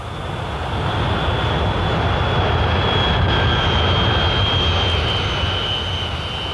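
A jet airplane passing overhead with a steady, broad engine roar and a high whine that slowly drops in pitch as it goes by, loud and alone with no talk.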